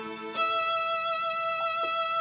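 A Yamaha PSR-SX700 keyboard plays solo string voices, a sustained bowed tone that shifts to a higher held note and then swells steadily with slight bends near the end, clear and close with no talking.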